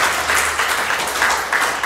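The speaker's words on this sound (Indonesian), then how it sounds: "Kasih tepuk tangan untuk Tuhan." Church congregation giving an ovation to the Lord: dense, loud, continuous clapping from many hands close by, with no voices over it.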